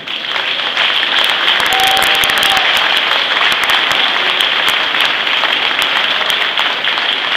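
Sustained applause from a large audience honouring the Frecce Tricolori non-commissioned officers, dense steady clapping that holds at full strength for about seven seconds with no break.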